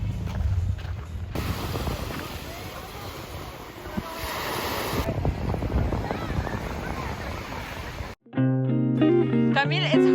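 Rough surf and gusty wind on the windy side of Saladong Beach in the Philippines, a loud, steady broadband roar from about 1 to 8 seconds, then cut off abruptly by a burst of music.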